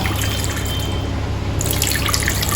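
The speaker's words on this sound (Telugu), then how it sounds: "కొద్దిగా వాటర్ పోసుకుందాము ఒక గ్లాసు డబ్బా" Water poured from a glass into an idli steamer pot, a steady close splashing stream that brightens and splatters more toward the end, with no talking.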